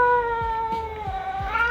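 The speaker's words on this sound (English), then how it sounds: "This is what it's like to have a ginger cat." A ginger cat gives one long, loud, drawn-out meow with a wavering pitch, close up and alone.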